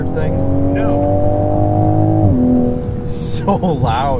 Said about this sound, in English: It sounds like an inline 6.